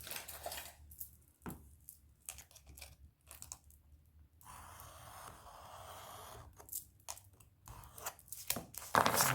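Scissors or a cutter slicing through scrapbooking paper for a photo album, giving soft intermittent snips and crisp cutting sounds at close range, with quiet pauses between strokes.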